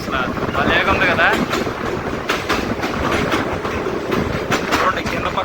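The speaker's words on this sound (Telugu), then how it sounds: "మన ట్రైన్ అయితే ఇప్పుడు ఒక అందమైన బ్రిడ్జ్ మీదకి ఎంటర్ అవుతుంది చూడండి" A train on the Rayagada to Koraput line rolls across a bridge, its steady rumble and rhythmic clickety-clack of wheels on rails loud and continuous, with wind noise throughout and a few brief voices under the din.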